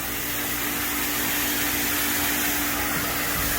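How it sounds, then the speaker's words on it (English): A sump pump drains a dirty hydroponic reservoir tank during a tank change, giving a steady, close whirring drone with a broad airy hiss that holds an even level throughout, with no talking. "he's putting the sump pump in"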